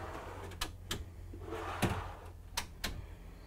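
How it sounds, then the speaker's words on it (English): Push-to-release pantry drawers in a 2022 Newmar Supreme Aire 4573 motorhome clack open and shut, a series of about six soft, sharp knocks and thumps spread over a few seconds in a quiet interior. "this floor plan is going to give you a nice big pantry, so you push to release on these drawers."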